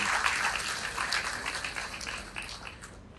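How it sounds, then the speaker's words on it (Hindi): Audience applause at a newspaper-organised award ceremony honouring meritorious students in Bareilly, dense hand clapping from a crowd that gradually thins and fades out. "तो जोरदार तालियां एक बार आप अमर उजाला की टीम के लिए।"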